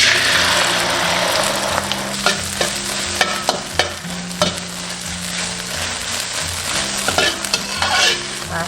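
Eggs fry in hot oil in a wok, giving a loud, steady sizzle close up with irregular scraping and stirring clinks over it and a low background hum.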